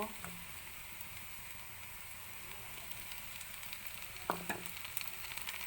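Chopped tomato tipped onto browned onion frying in a pan for prawn malai curry, giving a steady soft sizzle throughout with a brief louder clatter and stir near the end.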